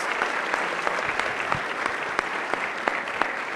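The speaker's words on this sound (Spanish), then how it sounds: "un aplauso más por favor para Minerva, para Juan y para Luis" Sustained applause from a university audience thanks the panelists, with a dense wash of clapping and some sharper individual claps standing out nearby.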